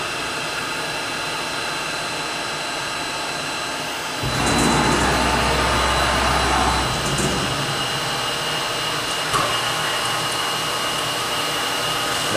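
A Kellenberger Kel-Vision URS 175/430 universal cylindrical grinding machine starts its main work spindle, which gives a loud broadband whir that rises for about three seconds over a steady machine hum and then settles back to a quieter running drone.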